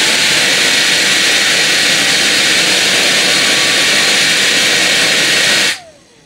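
HEIXUE Mini Turbo handheld brushless jet fan rated at 110000 RPM running at full speed, a loud, steady turbine-like whine and rushing air held close up, then cutting off abruptly near the end.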